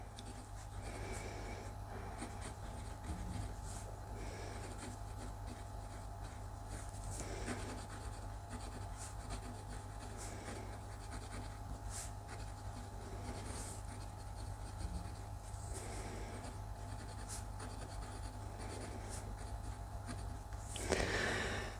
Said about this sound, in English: So this is just my good scribble pad that I'm pretty certain is not going to clog up the nib of my pen.